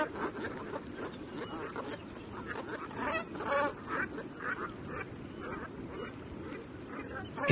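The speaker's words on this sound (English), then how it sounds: "In midsummer, more geese begin to arrive." A flock of geese honks at Teshekpuk Lake in Arctic Alaska in midsummer, many overlapping calls near and far that rise and fall continuously.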